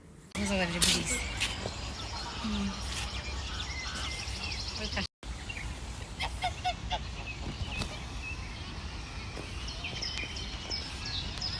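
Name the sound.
ducks at a pond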